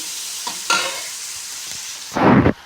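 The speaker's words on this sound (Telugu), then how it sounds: "బాగా కలుపుకోవాలి" Spice paste being stirred in a hot pan for an aloo fry, with soft scraping strokes near the start and a louder, sharper burst of sizzling and stirring close to the end, with no voices.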